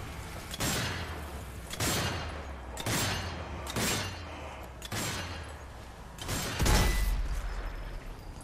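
Five or six sharp gunshots in the video game Zombie Army 4: Dead War ring out at roughly one-second intervals, each with a short booming tail, the last one heavier; no one speaks.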